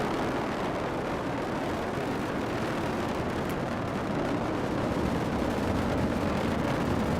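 Atlas rocket with its RD-180 engine at full thrust during liftoff, a dense, continuous rumbling roar that stays loud and unbroken from start to finish with no pauses or voices over it.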